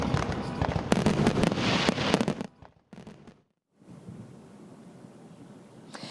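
Big fireworks display at the Queen Mary in Long Beach, heard from afar: a dense run of booming bursts and crackles for about two seconds, then a brief lull before a softer, steady rumble of distant explosions and ambient noise.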